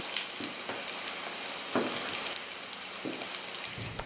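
Gobbler cakes sizzle steadily in a hot pan, a dense crackling hiss with scattered sharp pops and a few soft clinks of utensils, close and continuous without talk.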